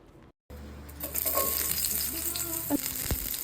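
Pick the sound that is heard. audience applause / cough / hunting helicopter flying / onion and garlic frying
onion and garlic frying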